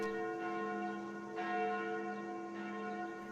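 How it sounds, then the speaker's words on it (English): Church bells ring the noon hour in the game Sucker For Love Chapter 2, a sustained resonant tone struck about three times in a slow rhythm, soft and somewhat distant. "Those sound like the church's noontime bells."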